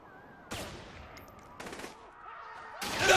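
Gunfire in the video game Saints Row The Third comes as three sharp bursts spaced about a second apart, the last one loudest, over a low game background with faint tonal effects.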